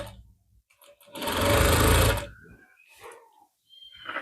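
Sewing machine running a decorative border stitch over an overlocked suit neckline, a loud steady whirring burst of about a second and a half, with quieter handling noises before and after.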